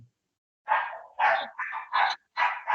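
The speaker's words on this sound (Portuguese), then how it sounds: "tá desesperado o cachorro hoje" A dog barks in five loud, close bursts with short gaps, starting after a brief pause, heard alone without speech.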